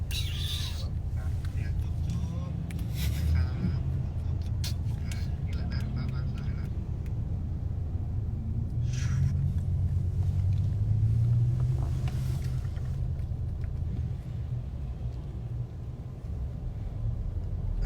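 A car is driven along a congested road in Thailand. Steady engine and road rumble runs throughout from inside the cabin, with people chatting over it.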